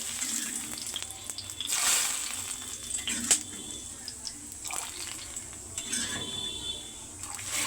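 Hot oil tempering into cooked dal in a home kitchen, a crackling sizzle with a sharp spattering burst near the start and another pop midway, mixed with clinks of a metal pan and utensils, close and steady.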